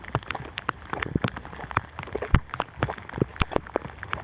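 Rain falls steadily on rice paddy fields, a dense close patter with irregular louder drops and splashes throughout, and no voices.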